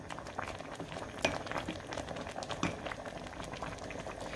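Okra soup with soft spinach leaves boiling in a pot, a steady close bubbling with scattered pops and a gentle stirring rustle, no voices.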